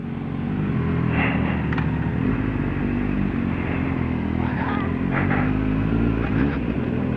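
A Kawasaki Z750 motorcycle engine rumbles steadily at close range on a night ride on fresh asphalt, revving throughout with a constant loud drone.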